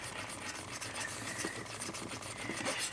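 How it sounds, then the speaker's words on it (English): Steel file rasping across an N scale model rail, flattening it while hand laying a turnout, a dense continuous scraping that stays fairly loud and steady throughout with quick repeated strokes. "you just file it flat, just like that."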